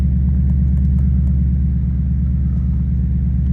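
A Ford Mustang Mach 1 coupe with a 5.0L V8 and six-speed manual idles in track mode, a loud, close, deep burbling rumble with a steady pulsing beat that holds evenly throughout, no voices.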